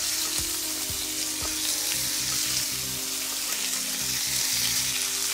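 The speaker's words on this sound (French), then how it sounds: "Notre huile et notre poêle est bien chaude. On pose délicatement dans la poêle." Chicken strips sizzling in hot oil in a frying pan, a steady dense crackle heard close and continuous, with faint low clunks beneath.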